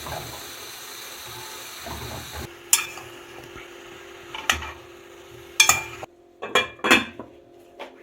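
Mushroom and squash sautéing in a pan, with a soft sizzle under repeated clinks and scrapes of a utensil stirring against the cookware, several sharp taps in an uneven rhythm close by.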